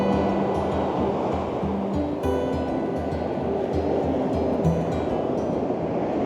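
Sea waves of an incoming tide roll and wash steadily onto a beach, lapping against the bottom steps in a continuous, fairly loud surf roar with no voices.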